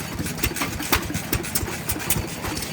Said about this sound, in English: Nice running engines, really nice display.